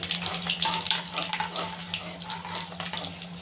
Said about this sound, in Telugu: బాణల్లో ఆయిల్ హీట్ ఎక్కినాక ఈ ఆవాలు వేసి వేయించుకోవాలి ఫ్రెండ్స్